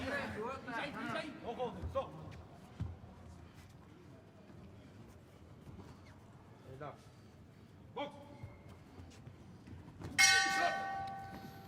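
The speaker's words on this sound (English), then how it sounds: "Now goes the bell at the end of the second round" A boxing ring bell clangs near the end, ringing out bright and sustained to close the second round of an AIBA Youth World Championship bout, after a stretch of crowd noise and commentary.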